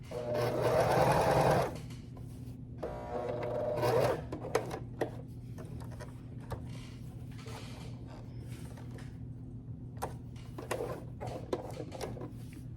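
A sewing machine hems silk edges for worship flags in two short bursts of fast stitching near the start, then falls quiet to a low hum with scattered handling clicks and taps.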